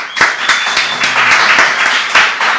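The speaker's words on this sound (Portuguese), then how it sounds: "como a gente começa, que é com uma salva de palmas para você e parabéns" A round of applause for a podcast guest, steady clapping from a small group with a few sharper claps standing out, continuous for about two and a half seconds.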